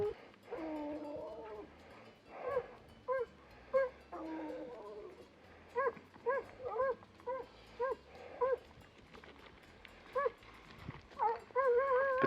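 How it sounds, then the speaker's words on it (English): A hunting dog puppy on a lion track barks in a steady run of short, sharp yips and barks, with some whining in between, fairly close, over outdoor background and brief talk. "That little puppy's barking, but he don't know what he's barking at."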